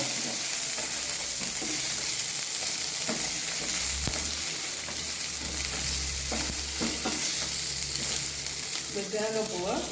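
Food sautéing in a pan for a kadalai curry, with grated coconut about to go in, crackles in a loud, steady sizzle alongside repeated scraping strokes of a stirring spoon.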